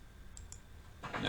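Two quick, light mouse clicks form a double click while working in graphic design software, followed by a voice starting to speak softly.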